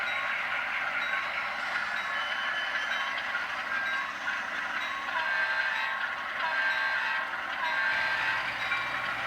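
A weathered BN C636 locomotive on an HO scale model railroad pulls a long string of cars, making a steady, continuous rolling rumble and whir at moderate level throughout with no voices.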